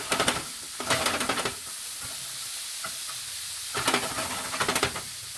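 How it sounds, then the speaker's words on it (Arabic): Minced meat fries in a pan with no oil or ghee, giving a steady sizzle with bursts of louder scraping and stirring near the start and end, close and alone without voices. "واللحمه كمان رح اقليها تقلاي كامله"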